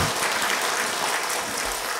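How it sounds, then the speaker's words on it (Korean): An Easter Sunday congregation at Gochon Jungang Church claps together, a thick, even wash of many hands ringing out bright and close for about two seconds with almost no voices. "오늘 부활하신 우리 주님 앞에 박수로 영광 올리겠습니다"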